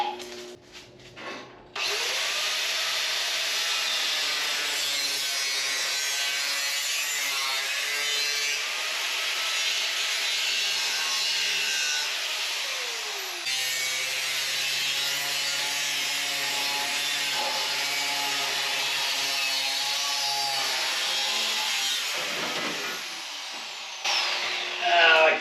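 A cutoff wheel slicing through a piece being shaped into a filler panel for a custom dash in a Scout 800 roll cage gives a loud, steady high-pitched grinding whine that runs almost unbroken for about twenty seconds before cutting off.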